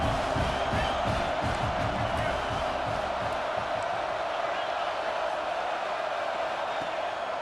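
A steady, dense stadium crowd roar swells and holds throughout during a red-zone defensive stand in College Football 26, loud and continuous with no clear voices standing out.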